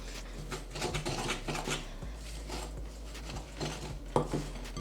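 Cookie crumble tossed and stirred in a bowl for a dark chocolate fudge cake, with light scraping clinks and soft patter of utensil against the bowl, close and fairly quiet.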